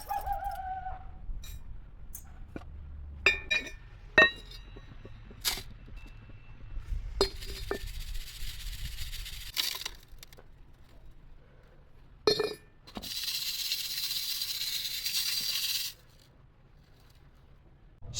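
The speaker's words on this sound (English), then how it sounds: "Time to work the slag." Smelting slag from ore processing is worked to free stuck metal beads, giving sparse close clinks, taps and scraping rubs, followed near the end by a few seconds of harsher grinding.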